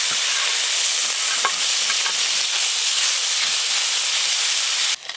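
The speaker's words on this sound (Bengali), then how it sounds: "এই যে এইগুলো ভাজলেই সব মাছ ভাজা হয়ে যাবে।" Small fish frying in hot oil, a dense, steady sizzle and hiss with faint clinks, loud and close, cutting off abruptly near the end.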